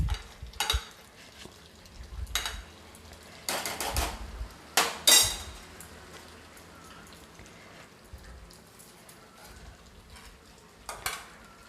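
A few wet splats and sizzling bursts as chopped tomatoes drop into a hot pressure cooker with lauki and chana dal, with soft stirring clatter and a quiet kitchen hiss between.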